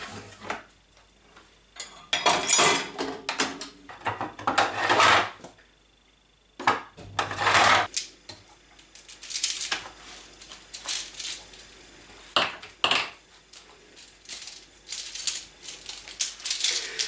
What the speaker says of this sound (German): muss nur ein bisschen Geschirrspüler noch einräumen und sauber machen.